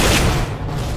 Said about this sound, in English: I don't like that heavy machine gun